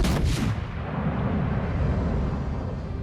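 In the World of Warships Legends game, naval guns fire at the battleship Iowa. A heavy booming salvo opens, then a loud, dense rumbling roar rolls on without a break.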